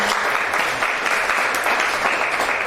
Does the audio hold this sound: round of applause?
yes